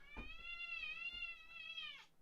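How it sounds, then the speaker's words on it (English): A pet cat meows in a long, drawn-out, wavering cry lasting about two seconds, close and clear, with faint soft thumps at the start and no one speaking. "That's my cat."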